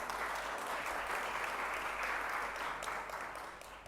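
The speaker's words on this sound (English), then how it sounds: "So give yourselves a round of applause." Dense, steady applause from an audience at a Somali Independence lighting ceremony, a loud wash of many hands clapping together that thins slightly toward the end.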